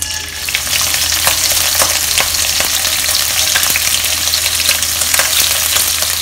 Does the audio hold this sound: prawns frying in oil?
yes